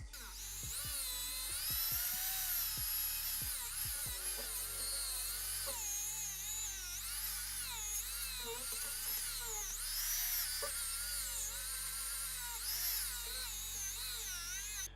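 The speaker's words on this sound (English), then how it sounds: "so I'm going to give the Scotch-Brite wheel a try now." A rotary power tool fitted with a Scotch-Brite wheel scrubs deposits off a motorcycle engine block. It gives a continuous high-pitched whine that wavers in pitch as it presses and lifts against the metal, and there is no speech.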